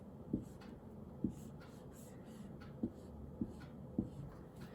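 Pencil marks a symbol on a paper worksheet, a handful of soft separate taps and scratches spaced a second or so apart, faint and close in a quiet room.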